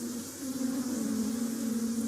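Honey bees hum in a hive with drones among the workers, a close, continuous low-pitched buzz that stays steady throughout, with no voices.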